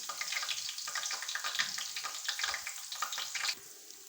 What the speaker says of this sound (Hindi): अदरक लहसुन का पेस्ट हम फ्राई कर लेंगे